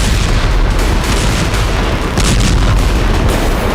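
Russian artillery shelling Ukrainian positions in the Kursk region makes loud, rolling booms that blur into one continuous, heavy rumble.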